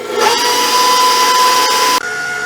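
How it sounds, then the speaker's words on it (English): Electric hand mixer whirring steadily as it blends a chocolate filling for a French silk pie, a loud continuous motor drone with a steady high whine that cuts off abruptly near the end. "now we're just going to mix it really well till it's well incorporated"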